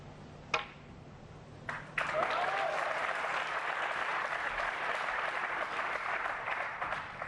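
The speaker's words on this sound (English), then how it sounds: "Roars of approval." Snooker crowd at the Saudi Arabia Masters breaks into loud, sustained applause and cheering, a broad roar that swells from about two seconds in and holds steady to the end, after a couple of short early claps.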